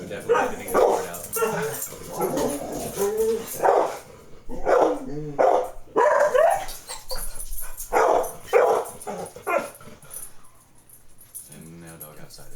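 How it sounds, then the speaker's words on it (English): A dog barks outdoors in a few intermittent yips and barks, partly masked by a person talking nearby. "And now dog outside is upset."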